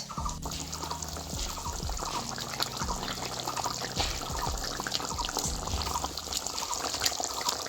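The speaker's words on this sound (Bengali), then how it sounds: "এবারে দিয়ে দেবো ভেজে রাখা মাছ" Fried rupchanda fish goes into a simmering potato curry, with a continuous bubbling, trickling liquid sound and small splashes close by, at moderate volume and with no voices.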